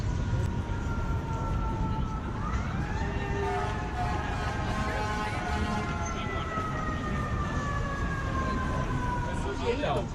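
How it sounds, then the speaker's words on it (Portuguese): An ambulance or police siren wails on a city street, its steady rising and falling tone echoing off tall buildings in Chicago over constant traffic rumble for the whole stretch. "eu escutei o barulho da ambulância, da polícia"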